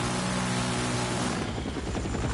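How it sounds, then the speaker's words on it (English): A helicopter from the shooter Battlefield 6 roars steadily and loudly throughout, its dense rotor and engine noise filling the whole moment without any talking. "there was a chopper right in front of you"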